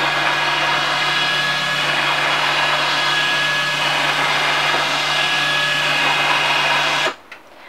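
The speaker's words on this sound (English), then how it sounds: "the 24-inch TV is actually hidden in the front, but comes right up with the push of a button" A motorized lift raises a hidden 24-inch TV from the front of a Little Guy Max camper's dinette, giving a steady whirring motor hum for about seven seconds before it stops abruptly.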